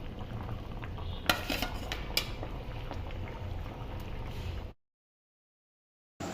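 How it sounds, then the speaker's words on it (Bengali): Katla fish and drumstick vegetables simmering in a pan and gently stirred, a steady close bubbling hiss with a couple of soft clinks, then it cuts off into silence. "নাড়াচাড়ার কাজটা কিন্তু বেশ আলতো হাতে করতে হবে।"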